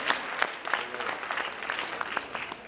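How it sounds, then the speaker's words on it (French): Applause from an audience at a youth film awards ceremony as a best actress is honoured, with steady dense clapping and a few sharper claps standing out throughout. "je vous demande d'applaudir parce qu'elle est là"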